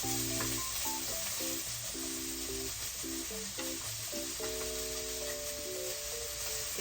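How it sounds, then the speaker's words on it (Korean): Celery stir-fries in a pan over low heat, giving off a constant soft sizzling hiss. Plucked background music plays over it throughout, and no one speaks. "좀 더 투명해지는 걸 이렇게 보면서 계속 볶아주세요."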